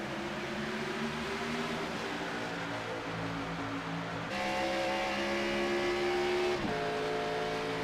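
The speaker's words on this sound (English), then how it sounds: "iRacing pace car about to take that left-hander down the long pit road" Simulated race cars from an iRacing stock-car race at Pocono, the pace car leading a 34-car field: a continuous loud engine drone with harmonic tones that step up in pitch as the engines rev, with no talk.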